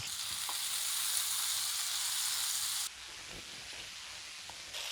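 Fish sizzling steadily in a frying pan, a bright continuous crackle that drops in level partway through as the fish is flipped, with a few soft clinks of utensils.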